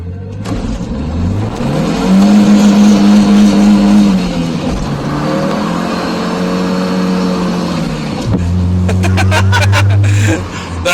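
A turbocharged Volvo 740 accelerates hard, its engine climbing loudly through a long rising pull, dropping on a shift, then surging again up close, with brief clatter near the end.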